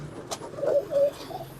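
Pigeons cooing in a loft of egg-laying birds, a couple of soft, low coos close by against quiet background noise.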